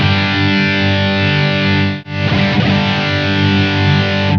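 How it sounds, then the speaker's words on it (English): An electric guitar plays through a Blackstar Dept 10 distortion pedal, giving a loud, thick, saturated sustained chord. The sound drops out briefly, then a fresh strummed chord rings on with buzzing drive. "this drive control for adding power tube saturation or distortion"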